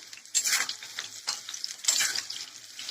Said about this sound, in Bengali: আলুটা দিয়ে দিলাম, এবার ভালো করে নেড়ে চেড়ে নেবো।